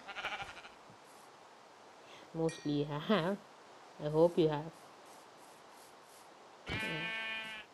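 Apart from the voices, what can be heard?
sheep bleating in the video game Minecraft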